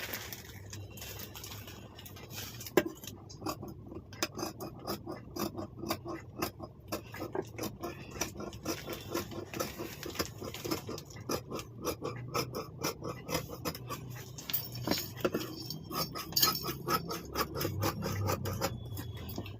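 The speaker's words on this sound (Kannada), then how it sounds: "ಇವಾಗ ಇದು ಕಟ್ ಮಾಡ್ಕೊತೀನಿ" Scissors cut through lining fabric for a 34-size blouse with a quick, even series of soft crisp snips, close and fairly quiet, with no talking.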